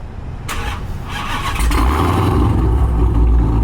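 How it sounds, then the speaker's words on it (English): Tuned supercharged Dodge Hellcat at a car meet, its engine catching and then rising into a loud, sustained rev that holds steady and close, with a deep rumble throughout and no talking. "They give them one, just one little rev, man."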